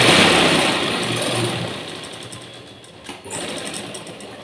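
A sewing machine stitches a strip for a blouse with a close, steady, whirring run. It fades briefly near the end, gives a short clatter, then resumes, and no talking is heard over it.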